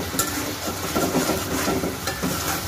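Spice paste being stirred and fried in a pan for a river poma fish curry, a short burst of spatula scraping and shuffling over a soft sizzle, close and fairly even.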